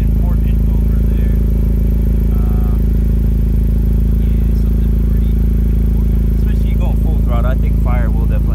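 2017 Honda Civic Si engine running with the exhaust disconnected at the front pipe, a loud, steady low droning rumble throughout with occasional clatter, a voice talking over it near the end.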